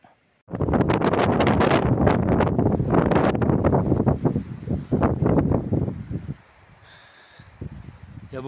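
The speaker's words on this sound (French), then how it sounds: "Il y a beaucoup de vent aujourd'hui." Strong gusting wind at outdoor ruins batters the microphone with loud, broadband roaring buffets that surge and churn for several seconds, then drop to a quieter hiss.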